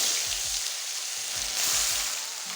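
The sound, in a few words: onion, garlic, ginger and green chilli paste frying in a pan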